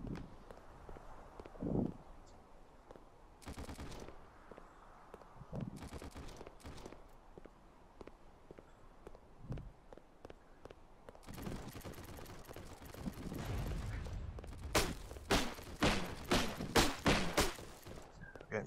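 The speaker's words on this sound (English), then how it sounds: "Getting shot from somewhere." Gunfire in a battle royale video game: scattered single shots early on, then rapid bursts of loud shots near the end, with footsteps and occasional quiet talk.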